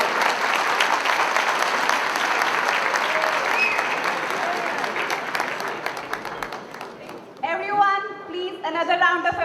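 An audience at an NRI interaction event claps in sustained applause for several seconds, thinning out before a voice begins speaking over the last part.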